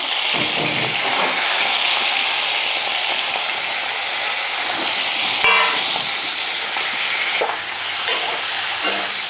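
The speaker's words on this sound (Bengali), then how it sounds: "আমি ভেজে নিচ্ছি চিংড়ি মাছগুলো" Prawns hit hot oil in a wok and fry with a loud, steady, bright sizzle that fills the whole stretch without pause, with no voices over it.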